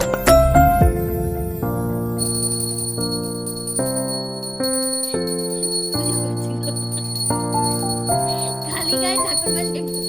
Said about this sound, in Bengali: এই যে এটা এই ঘন্টাটা একদম ছোট, তো আমি একটু বড় নিতাম ঘন্টাটা।